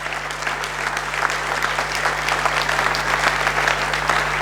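A seminar audience claps hard and continuously, dense crowd applause holding at an even loud level from start to finish over a faint steady hum.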